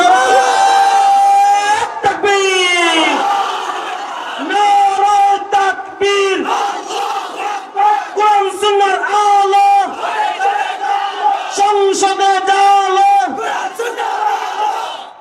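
A large crowd chants slogans in unison at a religious gathering, loud sustained shouted phrases repeating in a rhythmic call pattern with brief gaps between bursts, filling the space throughout.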